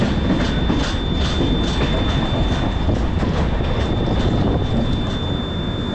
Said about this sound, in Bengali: এবার আমাদের ট্রেন চলে এলো আসানসোল।